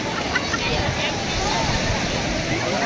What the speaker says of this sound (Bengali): ঢেউ আসছে, ঢেউটা ভেঙে যাচ্ছে।